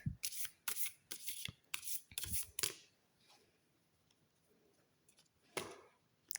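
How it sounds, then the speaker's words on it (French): Tarot cards shuffled by hand in a run of crisp riffling bursts for about three seconds, followed by quieter handling and one last short riffle, close up with no voice. "on va prendre quelques cartes."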